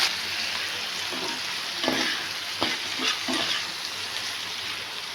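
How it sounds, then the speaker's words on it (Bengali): Okra and potato frying in hot oil tempered with cumin and dried red chilli, giving a steady bright hiss of oil with a few spatula scrapes and stirs in the middle, close and continuous. "এবার আমি ঢেঁড়স আর আলুটাকে ভেজে নেব। ঢেঁড়স আলুটাকে ভেজে নিচ্ছি।"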